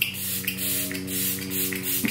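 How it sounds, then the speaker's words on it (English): A plumping face mist from Beauty Counter is sprayed onto the face in several quick, soft hissing bursts, close up, over a steady low background hum. "I like to spray my face. This is my plumping mist from Beauty Counter."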